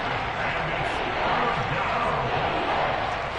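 Roaring home crowd of Seattle Seahawks fans at a stadium in the Madden 23 football video game, a dense continuous wash of cheering with commentary voices faintly mixed underneath.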